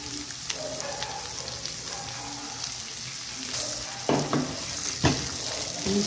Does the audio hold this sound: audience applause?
no